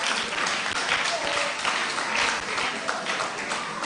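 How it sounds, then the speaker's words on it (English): Audience applause at a Nigerian International Day of the Boy Child event, a steady, dense wash of clapping lasting throughout with a faint voice underneath. "Please give a round of applause to Professor Kolude."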